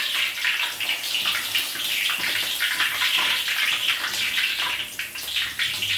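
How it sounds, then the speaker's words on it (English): Potato chips frying in oil in a pan over low heat, giving off a steady, dense sizzling hiss that runs continuously and close by with no talking. "while we fry our potato chips"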